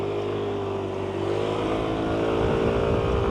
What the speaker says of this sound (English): doing a burnout in front of them. Throwing gravel everywhere.